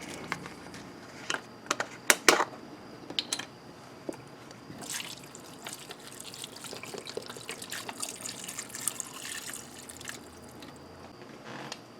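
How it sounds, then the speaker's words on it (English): Vegetable broth pours from a 32-ounce container into a pot in a kitchen with a steady, soft liquid trickle and a few brief splashes. The sound is fairly quiet, and no one speaks. "We're going to pour that in."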